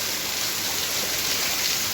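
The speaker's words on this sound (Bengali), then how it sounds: "বুঝে বিরাট বৃষ্টি পড়ছে, এত বৃষ্টি পড়ছে" A heavy downpour roars in a steady, loud wash of noise, unbroken for the whole moment, like water drumming hard on surfaces nearby.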